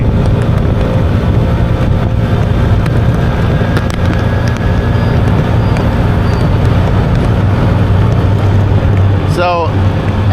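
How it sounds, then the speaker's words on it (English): A vehicle engine strains loudly as it accelerates slowly through a beach-side street, a continuous close rumble mixed with wind buffeting and traffic noise, with a voice talking over it. "You can hear the engine straining as well as it's not fast."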